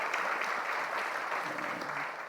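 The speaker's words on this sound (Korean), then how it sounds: "여러분 조장로님이 애쓰셨는데 박수 한번 크게 감사를 표하시고" A church congregation at a dedication service gives a big round of applause to thank an elder, a broad, sustained crush of clapping from many people, loud and even, tapering slightly at the end.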